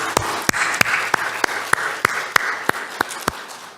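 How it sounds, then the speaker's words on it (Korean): A church congregation applauds in a steady wash of clapping marked by sharp, evenly spaced individual claps, moderately loud and without speech. "우리 다시 한번 하나님께 감사의 영광의 박수 올려드립니다."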